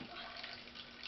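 Wort drains from a dirty steeping bag lifted out of a beer-brewing pot, a steady, continuous trickle and splash of liquid heard up close with no talk.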